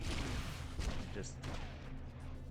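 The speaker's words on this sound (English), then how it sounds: "shoot slugs at her from the railgun" Muffled booming shots from a railgun firing slugs at a boss in the PS2 game Red Faction, several quick bursts over a dense, faint game soundscape.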